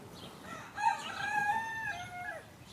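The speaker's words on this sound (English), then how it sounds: "those roosters are really being verbal this morning" A rooster crows in the early morning, one drawn-out cock-a-doodle-doo rising and falling, moderately distant against faint background noise.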